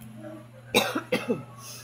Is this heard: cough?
yes